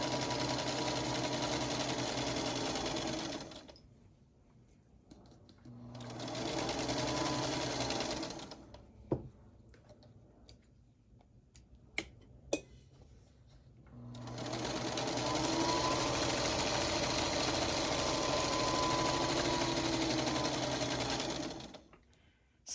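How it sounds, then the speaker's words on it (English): Sewing machine stitching quilt block pieces along marked lines, running in three long, steady, close bursts of rapid needle hum separated by quiet pauses with scattered clicks of fabric handling. "and I just sew right on the lines."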